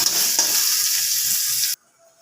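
Cumin, onion, ginger and garlic fry in a hot wok, a loud, steady broadband sizzle with stirring scrapes, close up, that cuts off abruptly near the end, leaving near silence.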